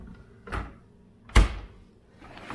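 A kitchen drawer or cabinet being opened and shut in a home, giving two distinct wooden thuds about a second apart, close by with a quiet room behind.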